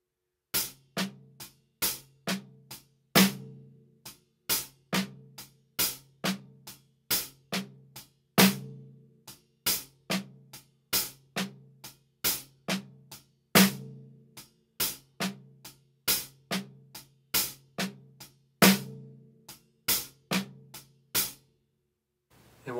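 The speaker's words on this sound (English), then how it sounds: "we're going to put an accented snare on count 3 to create a half-time shuffle feel" Drum kit playing a half-time shuffle, steady triplet-based hits with a strong accented snare landing on count 3 of each bar, crisp and close, played alone for about twenty seconds before stopping.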